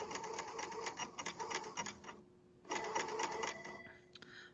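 A serger stitching a seam on pajama fabric, running in two fast mechanical bursts with a brief pause between them. The machine is fairly quiet and near, and nobody speaks.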